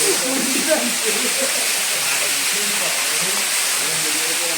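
A waterfall near Manjoor, Ooty, rushes in a dense, steady hiss that fills the scene at close range, with a voice speaking faintly underneath.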